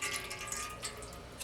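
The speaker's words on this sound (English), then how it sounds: "Just drain in the water." Water drains and trickles out of a can of kipper snacks, a soft irregular splashing and dribbling with a few small spurts, fairly quiet and with no voices.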